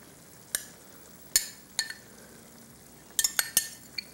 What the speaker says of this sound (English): Now let's go in here and just stir it in good, boy.